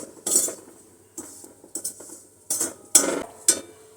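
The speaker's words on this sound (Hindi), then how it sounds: "इसी आंच में ये, जैसे घी गरम है ना," Gond, dry fruits, sesame and dried coconut roasting in hot ghee over a low flame, heard as a spoon clinking and scraping against the pan in sparse, separate bursts close by.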